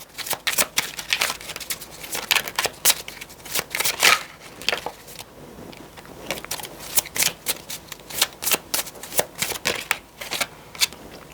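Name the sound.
tarot cards being handled and laid out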